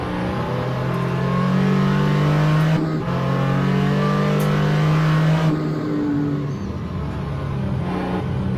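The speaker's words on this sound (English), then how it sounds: "2LSPG5 driver Johnny Gutierrez accelerates harder." Porsche 935 K3 race car in a historic sportscar racing video game at Mid-Ohio, engine droning loud and continuous as it accelerates through gears, with a brief shift break and a rising pitch toward the end.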